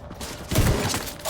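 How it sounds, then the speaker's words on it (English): A shotgun headshot in The Division 2 lands as one brief, rough blast of gunfire with a short rattling tail, heard alone. "Rare shotgun headshot from fucking 30 yards away"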